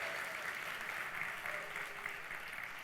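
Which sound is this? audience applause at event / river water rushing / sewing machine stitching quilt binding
audience applause at event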